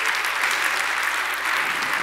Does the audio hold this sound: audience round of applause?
yes